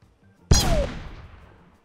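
A single loud gunshot in PUBG Mobile, sudden and close after near silence, with a long echoing decay that fades over about a second.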